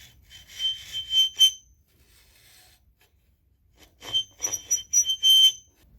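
Rasping metal filing strokes on the aluminum fingers of a worn Honda XL600R clutch basket in two bursts, a handful of quick scrapes, a pause, then another run of strokes, close and fairly loud.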